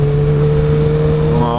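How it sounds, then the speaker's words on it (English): A 2008 Honda CBR 1000RR sportbike engine holds a steady, close, loud hum while riding, then its pitch climbs sharply near the end as the rider works through a gear change. "Well, let's see if I'm just lucky with the shifting."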